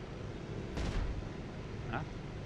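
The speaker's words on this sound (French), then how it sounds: "Ça tire, ça tire." Gunfire in a DCS World WWII flight sim dogfight of Fw190s over Caen: two quick, faint bursts of shots about a second apart, heard over a constant low engine drone.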